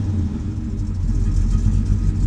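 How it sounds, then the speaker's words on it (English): A 1966 Dodge Charger fastback with a 440 Wedge V8 idles nearby, giving a loud, steady, deep rumbling engine note with no speech. "I love the sound of these Wedge motors."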